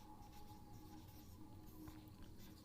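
Chalk or a marker scratches softly across a board during a history lecture, giving faint, continuous rubbing and scraping strokes heard close up with no talking.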